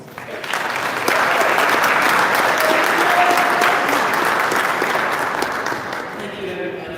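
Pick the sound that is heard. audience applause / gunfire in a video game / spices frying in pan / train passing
audience applause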